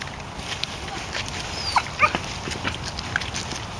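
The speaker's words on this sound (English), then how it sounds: "Wow, that's a friendly dog." A pug whimpers and yips in short, high, breathy squeaks scattered across a few seconds, close by over a soft background hiss, with faint voices nearby.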